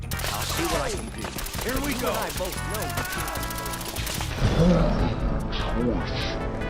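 Gunfire from the Fallout 4 video game, a rapid burst of shots with sharp impacts, heard under continuous talking.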